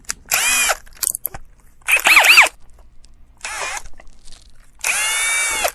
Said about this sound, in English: Provided that you got your holes aligned correctly, the big drill bit should follow the small drill bit.